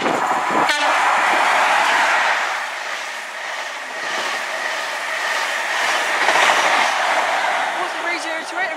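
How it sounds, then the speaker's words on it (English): Passenger train passing through Castle Cary station on the Great Western main line, a brief horn blast near the start followed by a loud, sustained rushing roar of wagons and wheel clatter going by close at hand. "for the final train of the day we have a passing service"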